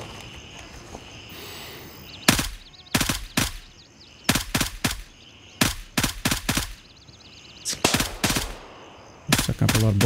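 Gunfire in the military shooter game Gray Zone Warfare, loud sharp shots in irregular single reports and quick bursts over a faint steady background hum, close and punchy, with no talking.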